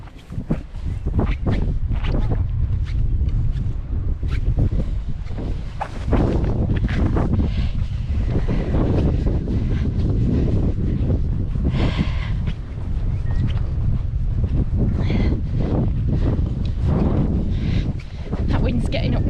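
Strong wind buffets the microphone on an exposed stretch of the England Coast Path in Cumbria, a loud continuous low roar with gusting surges and rustling, and footsteps faintly beneath.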